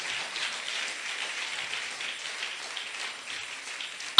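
A church congregation claps steadily and evenly throughout as a soft, continuous patter of many hands, heard at a distance. A sharp, louder clap or knock lands right at the end.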